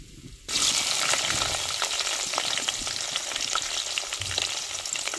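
Chopped onions and curry leaves fry in hot oil, a loud, steady crackling sizzle that bursts in just after a quiet start and keeps up with small stirring scrapes, no voices.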